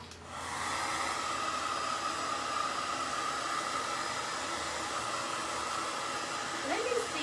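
A hair dryer switches on and blows steadily and loudly up close, drying a makeup sponge with a constant whooshing roar; a faint voice is heard near the end.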